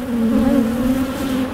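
Honey bees buzz loudly and close during a hive split, a strong steady drone that holds throughout with no talk.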